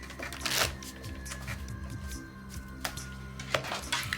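A deck of playing cards is shuffled in several quick riffling bursts with short pauses between them, close and moderately loud, with faint room noise underneath.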